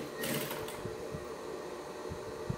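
A sewing machine runs steadily, stitching piping into the point of a fabric toiletry bag panel, a faint continuous hum with light mechanical ticking throughout.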